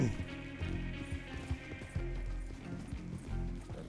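Horse hooves clip-clop steadily in Red Dead Redemption 2, a quick galloping rhythm of close, moderately loud hoofbeats with no talk over them.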